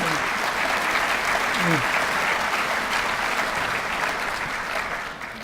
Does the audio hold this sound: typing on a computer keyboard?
no